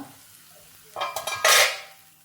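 Masala cooks in a pan for stuffed capsicum pakoda: quiet at first, then a spoon scrapes and clatters against the pan in a few quick strokes before a louder burst of sizzling that fades away.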